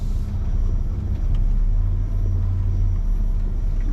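A Chevrolet C1500 work truck cruising through a field in low gear with no pedals pressed, its engine giving a steady, close, low rumble that holds evenly throughout without any talking.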